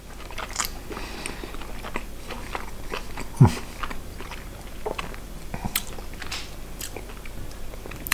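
Close chewing of pizza marinara topped with mussels, shrimp and cheese, with soft wet mouth sounds and one sharp crunchy bite partway through over a faint room background, and no talking.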